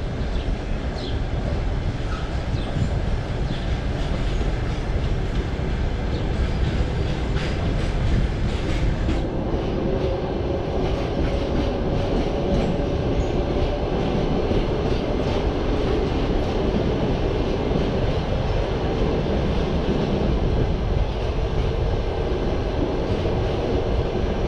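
A train runs along the rails on a seaside line near Sochi in the early morning, giving a steady rolling rumble with rhythmic clickety-clack of wheels over rail joints, continuous and fairly close.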